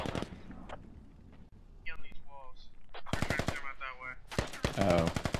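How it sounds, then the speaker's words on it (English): Bursts of .50 caliber machine gun fire in the Squad video game, heard as two long rapid strings of loud shots after quieter radio chatter and scattered distant pops, with a voice talking over it. "These 50 cals will light them up."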